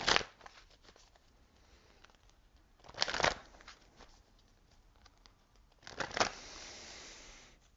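Tarot cards are shuffled and drawn from a deck in three soft, papery bursts of riffling and sliding at close range, separated by quiet rustling.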